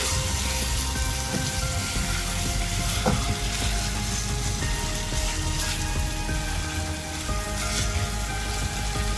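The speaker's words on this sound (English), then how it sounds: "Stir this well." Minced chicken keema with a tablespoon of ketchup-style sauce sizzles steadily in a frying pan, a constant crackling hiss with faint scraping as it is stirred, no voices.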